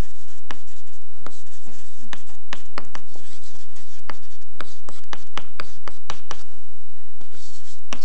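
Chalk or marker strokes on a board during a lecture, loud and close, with repeated sharp taps and scratchy strokes in an irregular rhythm throughout.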